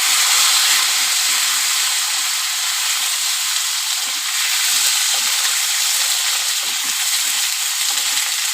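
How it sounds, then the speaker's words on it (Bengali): Potato and ridge gourd sizzle in hot oil after tilapia frying, with a loud, steady crackling hiss that fills the whole stretch with no talking. "কেটে রেখেছিলাম আলু আর ঝিঙে দিয়ে দেবো"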